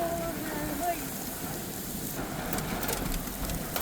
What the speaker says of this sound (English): Oh, here comes hail.